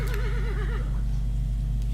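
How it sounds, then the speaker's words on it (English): A horse in the Dwarf Fortress video game gives a short, wavering whinny that fades out in under a second, over a loud, steady low hum. "getting a stray horse."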